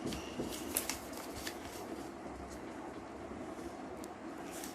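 Paper rustles and crinkles softly up close as a sheet is folded and creased into an origami goldfish. A few crisp crackles stand out over a faint, steady background hiss.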